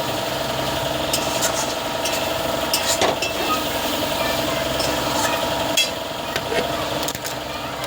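Marinated chicken curry sautéing in a pan, a continuous sizzle with scraping stirs and sharp spatula clicks against the pan over a steady low hum.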